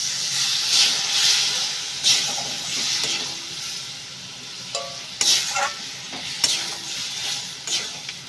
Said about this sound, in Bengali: মাছটা একটু কষে নিয়েছি, আমি এবার একটু জল দিয়ে দেবো।